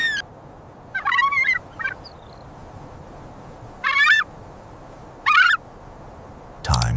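A martial eagle on the harsh savanna, standing guard at a hollow, gives several angry, harsh calls in separate bursts spaced a second or more apart, fairly close and clear against a quiet background.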